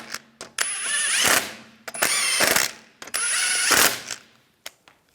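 Ratchet wrench snugging lug bolts on a 1998-2010 Volkswagen Beetle wheel, heard as three close bursts of rapid mechanical clicking with brief pauses between, ending in a couple of small taps.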